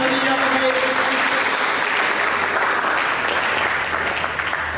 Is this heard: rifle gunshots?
no